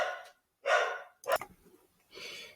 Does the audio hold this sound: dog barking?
yes